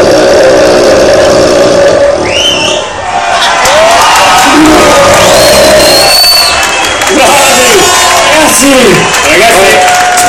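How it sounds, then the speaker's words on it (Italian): Lively crowd at a burping contest in Cazzago San Martino claps and cheers loudly, with whistles and shouts mixed into the applause and voices talking over it throughout. "un grosso applauso"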